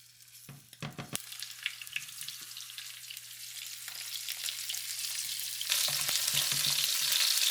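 Shrimp sizzling in hot oil in a pan for a cashew shrimp stir fry, a steady bright crackle that builds louder toward the end, with a few clattering bumps as the shrimp go in and no voices.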